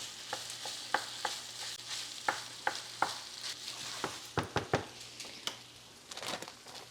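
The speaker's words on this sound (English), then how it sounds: "I am gonna go ahead and toss in my cooked rice though. Breaking up any clumps, kind of making like beef fried rice." Cooked rice stir-fried with beef in a pan, its clumps broken up: a soft steady sizzle with irregular sharp scraping clicks of a utensil against the pan, close and clear, with no talking.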